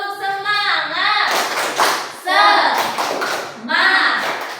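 A primary school class claps a rhythmic spirit cheer together with a teacher in a classroom lesson. Voices chant over short bursts of clapping, with pauses between phrases.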